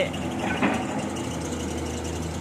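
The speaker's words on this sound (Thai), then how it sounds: "เครื่องยนต์ 6 สูบ" A Kobelco SK200-6 excavator's six-cylinder Mitsubishi 6D34-TE1 diesel engine, rated at 145 horsepower, idles with a steady, low, rumbling hum that stays even and continuous throughout, heard nearby with no talking.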